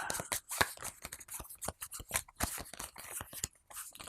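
Cards from the Tiny Epic Dungeons board game are shuffled up close, giving a quick run of crisp flicks, snaps and papery rustles over about four seconds with no talking.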